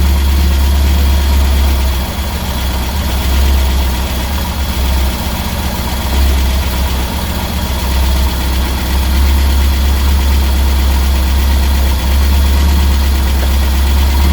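Reliant Supervan 3 engine idles loud and steady at close range with a deep, constant rumble and vibration while the gearbox is worked into gear, with no talking.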